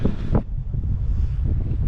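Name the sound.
wind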